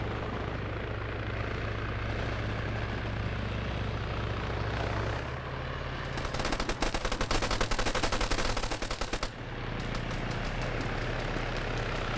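BMP armored vehicle gunfire in an Arma PvP match, a fast rattling burst of automatic cannon fire lasting a few seconds over a constant loud helicopter and engine drone.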